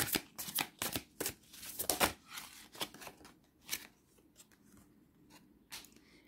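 Tarot cards are shuffled by hand in quick papery riffles and flicks, then slower single slides as one card is drawn, close and fairly soft with no voices.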